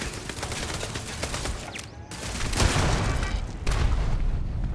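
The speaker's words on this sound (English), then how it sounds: "Jesus, throwing grenades" Grenade explosions and combat in Starfield: loud booms and crackling bursts, with a heavy blast about midway and another shortly after, over continuous gunfire-like noise and no talking.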